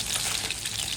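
Shingala fish frying in a pan without spices, giving a dense, steady, close sizzle that continues evenly throughout with no voices.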